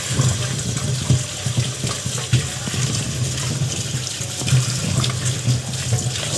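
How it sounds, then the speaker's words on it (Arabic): Tap water runs steadily into a kitchen sink as lemons are rinsed under it, a continuous close splashing stream with no pauses. "اهو نشغل عليه المية وهنغسله"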